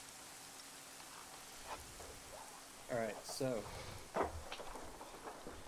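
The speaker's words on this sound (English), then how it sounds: "This rain is very loud." Loud, steady rain pours throughout a military video game mission, a dense wash of downpour with a few brief sharper spatters, while a voice speaks briefly over it partway through.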